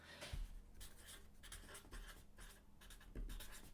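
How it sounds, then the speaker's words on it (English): Pen or pencil scratching on paper as someone writes by hand, a faint, irregular run of short strokes and scrapes with a few soft bumps against the desk. "I'm going to write this down."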